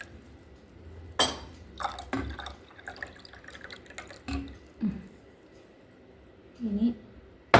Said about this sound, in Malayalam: ഇനി നമുക്ക് അതിലേക്ക് ആവശ്യത്തിന് വെള്ളം ഒഴിക്കാം.